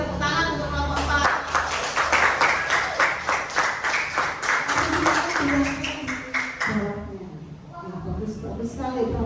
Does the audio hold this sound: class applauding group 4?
yes